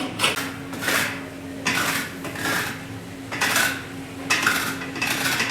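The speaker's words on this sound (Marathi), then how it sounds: "चाकूने काढलं तर निघत नाही मग आता या किसनी काढतोय" Rhythmic scraping strokes of a kitchen grater rasping the brown skin off a coconut, steady repeated passes close up with a faint steady hum behind.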